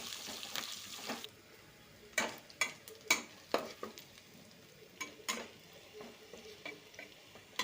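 Chopped onion and green chillies fry quietly in a pan, a soft sizzle broken by a run of sharp scraping stirs and clinks of the spoon, fairly close and with no talking.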